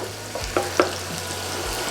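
Garlic fries in a pan of new-season olive oil, giving a soft, steady sizzle with a few small crackles and pops up close.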